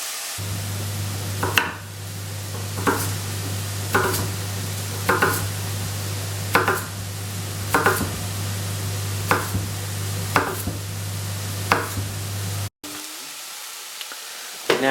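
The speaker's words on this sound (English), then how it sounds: "I'm going to peel and slice the sweet potatoes" Regular knife strokes on a cutting board, about one every second, over a steady low hum and faint sizzling, ending with a brief cut and rustle.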